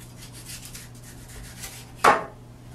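A single short, crisp scrape of a knife sawing through a bell pepper cuts through a quiet room, with a faint steady hum in the background.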